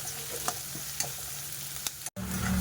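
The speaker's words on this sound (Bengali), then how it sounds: "পেঁয়াজটাকে আমি ব্রাউন ব্রাউন করে ভেজে নেব" Onions frying in oil in a pan hiss with a continuous sizzle, broken by a few sharp spatula stirs and a brief cut near the end.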